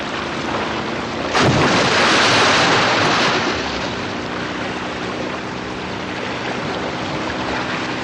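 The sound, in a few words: whale breaching, re-entering the water with a loud splash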